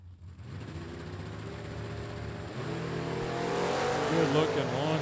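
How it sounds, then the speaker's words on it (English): An Oldsmobile Calais and a 1967 Chevrolet Camaro launch side by side at a Super Stock drag race, engines rising from a low idle rumble into a loud, building roar as they pull away. "Good looking launch there. The Calais carrying him out past the 60-foot beams."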